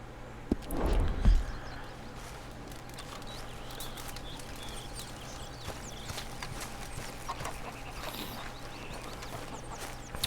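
Horse hooves clip-clop in the Red Dead Redemption 2 video game, a louder burst of hoofbeats early on, then faint steps under a steady ambient hum with light bird sounds.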